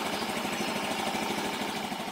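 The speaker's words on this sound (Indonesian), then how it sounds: "Kita panaskan dulu motornya." A Honda Genio motorbike engine idling as it warms up in the morning, a steady, close, vibrating hum with a fast even pulse and no talk.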